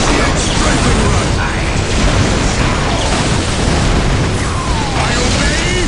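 In the strategy game Dawn of War Winter Assault, a strafing run unleashes a dense, continuous roar of explosions and booming blasts, loud and unbroken, with battle noise filling the whole stretch.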